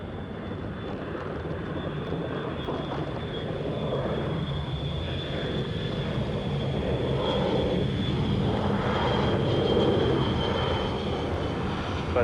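A Dash 8 turboprop on short final at Boston Logan Airport produces a steady, moderately distant engine drone with a faint high whine. The sound swells gently toward the middle and end.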